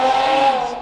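A loud, throaty custom aftermarket car exhaust roars steadily, a sustained raspy drone that fades slightly toward the end.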